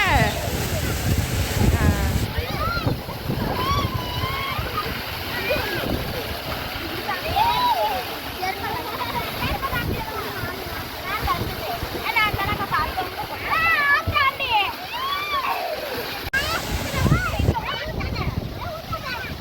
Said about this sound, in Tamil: மோட்டர் போட்டாச்சு. இப்போ தண்ணி நல்லா வந்துக்கிட்டு இருக்கு.